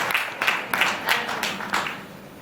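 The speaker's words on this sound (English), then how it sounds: "More applause because it was incredible." Audience applause at a live convention panel, a broadband wash of clapping with repeated swells, moderately loud and continuous for a couple of seconds.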